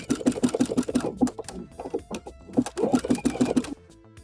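Sewing machine stitching around the outside of a lace applique, running in steady rapid bursts with brief pauses between runs, close and clear, alone without talk.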